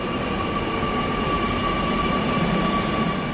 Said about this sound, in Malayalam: ഇതാണ് നമ്മൾ പോകുന്ന മെട്രോ.